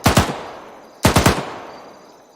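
Two loud rifle gunshots from a video game fire about a second apart, each a sharp crack with a rattling echo that fades, and no voices.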